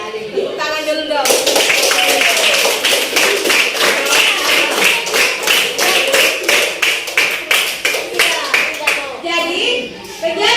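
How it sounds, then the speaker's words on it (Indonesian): A school class claps together in a quick, steady rhythm for about ten seconds, close and loud, with children's voices mixed in at the start and end. "Tepuk tangan dulu dong."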